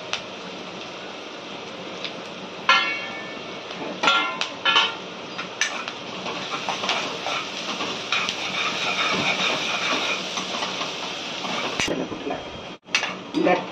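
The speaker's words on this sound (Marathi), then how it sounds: "कांदा चांगला लाल फ्राय होऊन द्यायचा, ब्राऊन." Onion and curry leaves fry in an oiled pan, giving a steady broadband sizzle with occasional sharper crackles and spatters all the way through.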